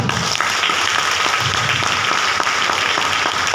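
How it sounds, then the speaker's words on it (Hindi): Brief, vigorous applause from an audience at a gathering, steady dense clapping filling the whole short span without speech. "इन सारे लोगों के लिए जोरदार तालियां"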